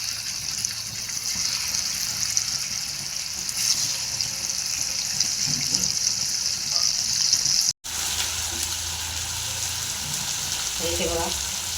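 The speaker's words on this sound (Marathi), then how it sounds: "आणि त्यामध्ये आपल्याला हे फ्राय करून घ्यायचं" Black eel fish frying in a pan with turmeric and onion-garlic masala, a constant loud hiss of hot oil with brief stirring and clatter near the end, no talk.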